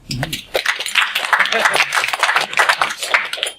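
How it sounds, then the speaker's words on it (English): An audience at an entrepreneur networking social in Leicester claps continuously, a dense patter of many hands close by, with voices mixed in. "Round of applause for Paul."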